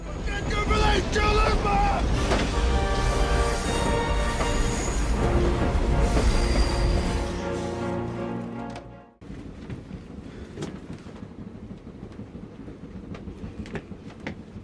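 Music plays for several seconds in the video game Dark Fall: The Journal, then gives way to a steady rumbling of a train riding along the tracks, with a constant low whooshing noise.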